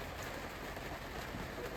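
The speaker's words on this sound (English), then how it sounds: "you watch the raindrops drop, get a few drippy spots inside" Rain falling on a boat moored at Secret Cove, BC, a steady, soft, even patter of drops throughout, heard alone with no voices.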